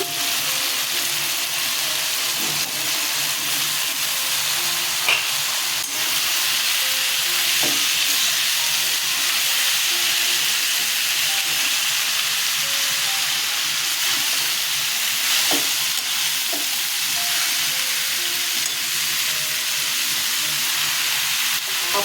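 Shredded cabbage fries in spiced oil with green chilli, sizzling and hissing steadily up close while occasional scrapes and clinks of stirring break through.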